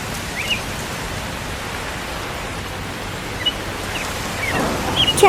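Steady rain falls in a cartoon farm scene, a constant even hiss of drops on a surface, with a few faint bird chirps near the end and no talking.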